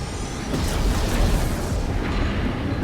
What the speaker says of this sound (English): That's a big old cannon.